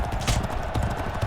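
Racehorses galloping in a horse race in the 2008 game G1 Jockey 4, a dense, steady drumming of hooves close and loud throughout, with no clear talk over it.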